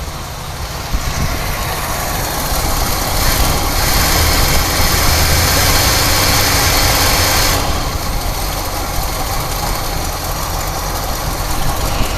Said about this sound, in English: Thing's running pretty terribly. I've got another pretty bad exhaust leak down low here somewhere.